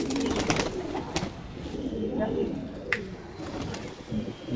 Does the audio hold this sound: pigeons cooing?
yes